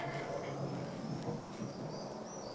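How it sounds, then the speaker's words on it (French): A theatre stage sound effect of pouring rain with low thunder rumbling, a steady dense wash heard on its own for a few seconds during a play. "Il pleut à verse."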